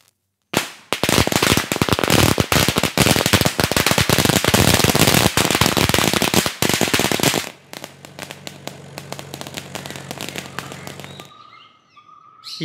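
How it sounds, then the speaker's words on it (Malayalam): Firecrackers burst under a mango tree in a long, dense, loud volley of rapid cracks and pops for about seven seconds, then a softer scattered crackle that fades out near the end. "മാവിന്റെ ചുവട്ടിൽ പടക്കം പൊട്ടിക്കുന്നെ?"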